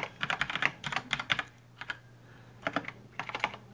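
Computer keyboard typing in quick bursts of clattering keystrokes with short pauses, close and clear, while programming properties in Unity, with no talking.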